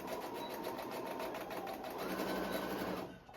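A sewing machine runs steadily and close by, back stitching a small seam on a wonder clip holder, a continuous whirring hum that fades out at the end.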